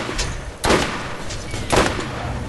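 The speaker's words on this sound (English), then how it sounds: "It's a Gatling gun." Gatling gun fire in the shooter game Borderlands, two loud bursts of shots about a second apart over a busy backdrop of game sounds.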